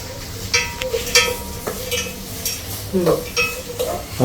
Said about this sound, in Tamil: வெங்காயம் ரொம்ப வதங்கக்கூடாது அந்த கலர் மாறக்கூடாது அந்த அளவுக்கு வதக்கிக்கணும்